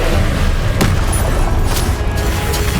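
Spell explosions and combat effects in the video game Hogwarts Legacy, a loud continuous roar of booming blasts with a few sharp cracks layered through dense game noise.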